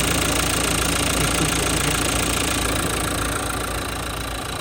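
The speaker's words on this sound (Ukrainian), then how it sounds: "Мотор працює чітко, рівненько" A 2019 Renault Kangoo 1.5 diesel engine idles close up, a steady loud rumble with a faint knocking texture that holds evenly throughout.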